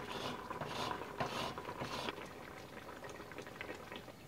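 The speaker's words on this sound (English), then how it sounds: "Now this has been simmering for about 7 minutes" Sugar-free fig preserves simmer in a pot in a home kitchen, giving a steady close bubbling and popping patter with small irregular bursts throughout and no talking.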